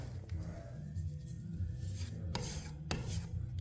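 Putty knife spreading spackle over a small ding in a painted wall, soft scraping and rubbing strokes with a few sharper swipes, close and quiet with no talk.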